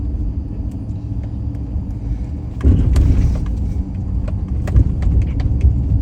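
Car driving at night over a bumpy road in Jackson, Mississippi: steady engine and tyre rumble, then a sudden louder jolt with repeated thumps and rattles from the uneven surface.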